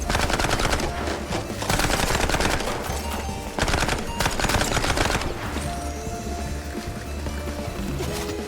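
Rapid bursts of gunfire in the cartoon-noir shooter Mouse P.I. for Hire, loud, close, fast-repeating shots in clustered volleys that thin into a noisy tail near the end, with no speech.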